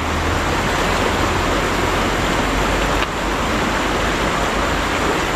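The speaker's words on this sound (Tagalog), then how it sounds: "Kasi nasa tabing ilog tayo, maririnig yung agos talaga ng tubig." A river rushes past a riverside campsite as a loud, steady roar of flowing water, continuous and unbroken, with no voices.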